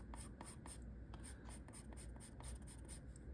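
A colour pencil shades on paper in quick, rhythmic back-and-forth strokes, a close scratchy rasp repeating steadily in a quiet room.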